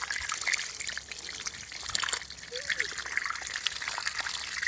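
Water gushing from a broken tap in a home, a continuous hissy close splash of running water, steady with no pauses.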